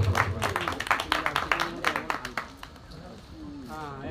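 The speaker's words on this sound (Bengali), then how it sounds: "করতালির মধ্য দিয়ে আমরা অনুষ্ঠানটি ইতি করব" Closing applause at a college certificate ceremony: a room full of people clapping in quick, uneven bursts for a few seconds, fading out as a voice begins speaking.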